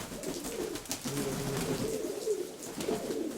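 Pigeons coo softly in low, rolling phrases, several birds close by on a drizzly rainy day, steady and unhurried with no talk.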